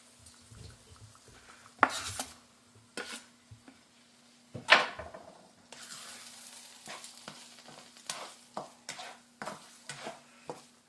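Tomatoes cook in a pan for migas. A quiet sizzle runs under repeated scrapes and clatters of a utensil stirring against the pan, with sharp clinks spaced irregularly and no talk.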